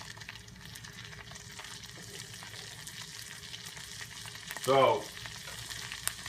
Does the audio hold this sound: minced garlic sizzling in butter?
yes